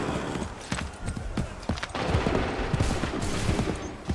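Musket volleys crack out in Assassin's Creed 3, several ragged bursts of gunfire spread across a noisy battlefield with hooves clattering and shouting voices throughout.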